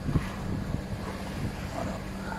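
A sailboat motors under engine approaching Valencia port, a low steady engine drone blending with wind buffeting the microphone and water washing along the hull, continuous and close.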